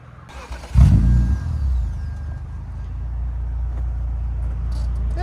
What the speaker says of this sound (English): it's got a nice idle to it now too.